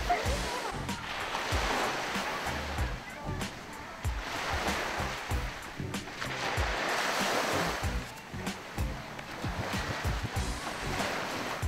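Sea waves washing onto the beach at Pattaya, a steady rolling surf with repeated swells building and breaking in long surges, fairly close and continuous, with faint background activity and no clear talk.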